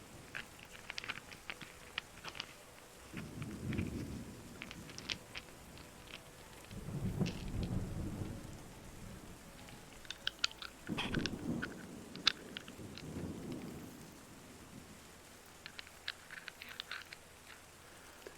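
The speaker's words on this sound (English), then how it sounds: "Just get lost in the sound of the rain." Steady soft rain patters with crackly drops while deep thunder rolls in several long, low rumbles, distant and unhurried, in the video game Terra Nil.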